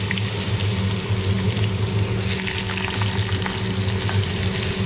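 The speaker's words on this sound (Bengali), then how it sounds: "এবার ওই তেলে আদা কুচি কাঁচা লঙ্কা কুচি" Chopped ginger and green chilies fry in oil in a heavily scorched iron wok, producing a dense, even, loud sizzle with a low steady hum underneath and no pauses.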